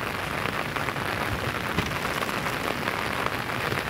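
Steady rain pattering densely on a surface, a continuous hiss of drops with no voices, holding evenly throughout.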